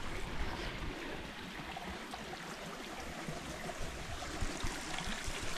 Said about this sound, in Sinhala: මෙන්න මේ ඇල පාර